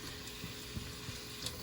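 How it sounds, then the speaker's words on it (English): Onion and peppers sauté in a pan with a soft, steady sizzle and a few light stirring clicks, close by and fairly quiet, with no talking. "So I am going to saute the onion and peppers"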